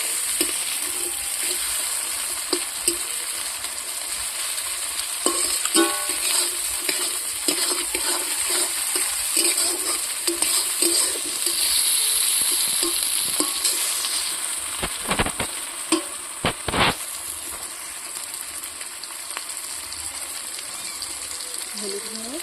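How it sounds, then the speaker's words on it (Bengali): Ginger-garlic paste stir-frying in a pan while a Bengali bhola fish curry is cooked at home, giving a steady soft sizzle with intermittent scraping and clinks of a spatula. "যতক্ষণ না আদা রসুনের গন্ধটা যাবে ততক্ষণ ভালো করে কষে নেব।"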